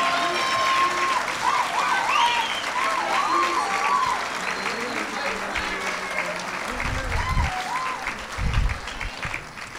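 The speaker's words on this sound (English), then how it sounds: "Ladies and gentlemen, a last applause for our inductees of the Passaic Valley Honor Society." Audience applause at a high school honor society induction ceremony, a sustained round of clapping from a seated crowd with voices and cheers mixed in throughout.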